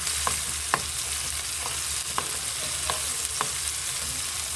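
Tomatoes and salt being stirred in a hot pan: a steady sizzle of frying runs throughout, broken by several sharp scraping clicks of a spoon against the pan at irregular intervals, close and moderately loud with no talking.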